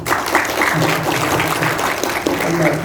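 An audience at the opening of an IT thematic academy for former migrant workers applauds in a steady, dense patter, with a voice talking over the clapping throughout.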